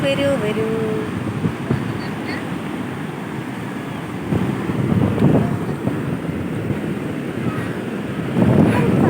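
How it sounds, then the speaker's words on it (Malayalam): Surf rolls onto Parappanangadi Beach in steady washes, with gusts of wind buffeting the microphone and a louder wave surge near the end. "വാ കടൽ തിരമാലകളെ, കടൽ തിരമാലകളെ, വരൂ."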